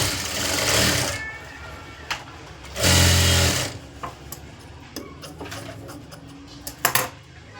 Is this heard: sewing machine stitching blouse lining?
yes